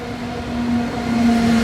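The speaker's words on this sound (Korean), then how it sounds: "기차 왔어" A train arriving at a station in Casablanca, Morocco, with a steady rumble and a sustained brake squeal that grows slightly louder over a short moment.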